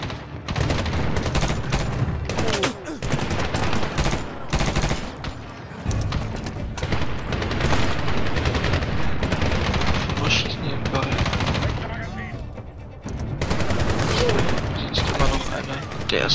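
Dense gunfire fills a Medal of Honor battle in Afghanistan, with continuous rapid automatic bursts, overlapping shots and occasional booms, loud and unbroken throughout.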